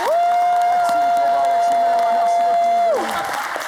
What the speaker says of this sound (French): je vous demande d'applaudir les Manawa et le Cléba